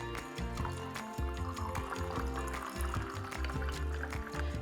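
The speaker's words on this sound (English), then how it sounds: "And then I'm going to pour it over some ice cubes" A cocktail pours over ice cubes in a glass, a short burst of bubbly liquid splashing with clinking, gurgling pulses, close and fairly quiet with no talking.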